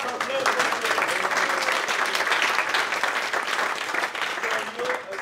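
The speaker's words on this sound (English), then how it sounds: "Round of applause." Steady audience applause at a live app review event, dense and continuous clapping filling the room at even loudness throughout, with no clear voices on top.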